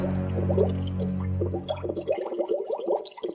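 A person dunked into water near a cave sets off a burst of choppy splashing and sloshing after a low droning tone fades out, moderately loud with no talk.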